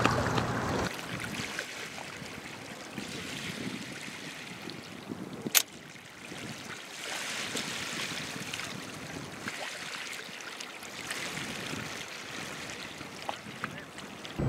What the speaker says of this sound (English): the waves crashing over the end here is still just a bit too far away for my liking